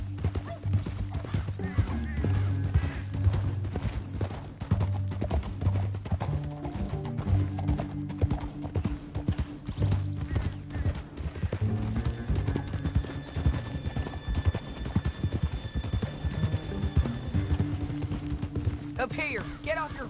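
Horse hooves galloping in Red Dead Redemption 2, a fast, steady clip-clop rhythm running throughout, up close and loud, with speech and faint background game sounds mixed in.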